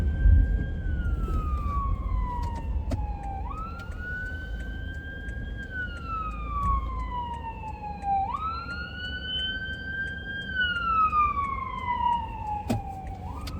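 A passing ambulance siren wails in slow rising and falling sweeps, repeating about every four seconds at a moderate distance over a low rumble of traffic, with no talking.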